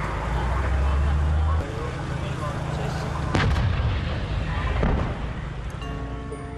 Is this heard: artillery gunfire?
yes